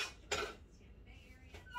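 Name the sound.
metal baking pans being handled at an oven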